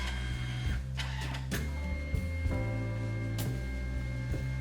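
A Canon Selphy QX-20 photo printer runs a print, with a steady mechanical whir, motor hum and periodic clunks and feed clicks throughout.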